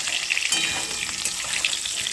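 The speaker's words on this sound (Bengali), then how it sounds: "তোমরা কিন্তু অবশ্যই বন্ধুরা এইভাবে কিন্তু আলুটা ভাজাও" Potatoes frying in oil in a pan give a steady, close sizzle with bright crackling spatter and small pops throughout, with no voices.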